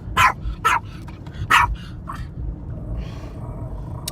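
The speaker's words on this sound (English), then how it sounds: "A nasty dog." A dog barks loudly three times in quick succession at close range, followed by a couple of weaker yips and a low whimper against a quiet background.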